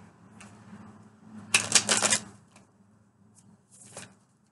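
Two brisk bursts of tarot card shuffling, the first long and crisp, the second short and softer, with near silence between them.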